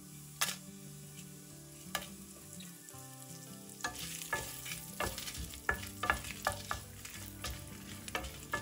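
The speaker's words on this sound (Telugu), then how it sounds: "జీలకర్ర కొద్దిగా వేగాక దీనిలో ఎండుమిరపకాయలు వేసుకుందాం." Cumin seeds and dried red chillies fry in hot oil, with a steady crackling sizzle and sharp scraping stirs that grow busier halfway through, over soft background music.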